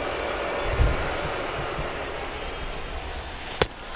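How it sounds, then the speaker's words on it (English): Rain falls steadily on the ballpark at Camden Yards in the MLB 22 baseball video game, a soft broadband wash holding constant throughout, with a couple of dull low thumps early and one sharp crack near the end. "Still raining here in Camden Yards."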